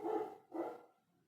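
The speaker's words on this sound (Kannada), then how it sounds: "ಇಲ್ಲಿ ನಾಯಿ ಐತ್ರಿ, ಏನು ತಿಳ್ಕೊಬೇಡ್ರಿ." A dog barks twice close by, two quick sharp barks followed by a faint trailing sound, heard alone in a home kitchen.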